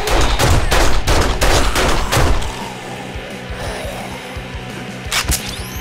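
Rapid bursts of gunfire from the video game 7 Days to Die, loud close shots clustered in the first two seconds, then sparse thumps and a few more shots near the end.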